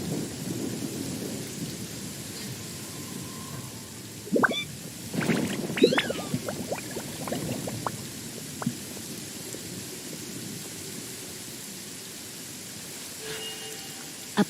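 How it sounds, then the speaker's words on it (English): Rain falls steadily in Genshin Impact while thunder rolls and cracks in a cluster of loud bursts midway, then fades back to the constant hiss of the downpour. "Let us find shelter from the rain."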